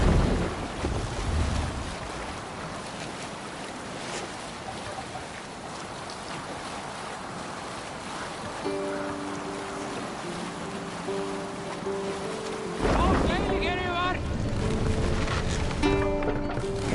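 Viking longship under sail on open water in Assassin's Creed Valhalla on PlayStation 5, with steady waves, rushing wind and hull wash, plus faint tonal game music that swells near the end.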